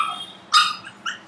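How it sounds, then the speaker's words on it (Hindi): A very small young puppy barks twice indoors: two short, sharp, high barks about half a second apart, fairly close, following a faint quiet stretch with no talk. "भौंक रही है।"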